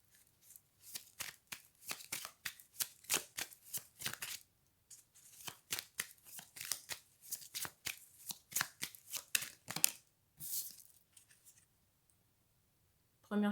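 Tarot cards being shuffled by hand, a quick series of close crisp riffling bursts in irregular rhythm with short pauses, then a brief silence before a final soft sound.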